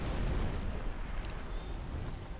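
Dark Souls 2 dragon boss Sinh's gassy fire breath, a loud sustained roaring whoosh of flame with a rumbling low end, filling the whole moment.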